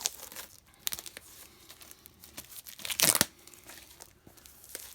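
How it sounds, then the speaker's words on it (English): A sealed hardcover Absolute Edition of The Death of Superman has its plastic wrap opened: close, crisp crinkling and tearing in short bursts with a sharp rip near the middle, quiet gaps between. "it's sealed, so we'll need to open this up so we can take a look at it"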